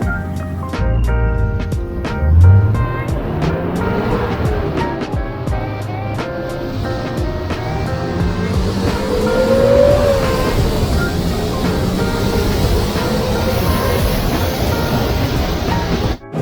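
A BMW E36 pulls onto a freeway, with steady engine and road noise that rises as the engine climbs through the revs, close and continuous with no talking.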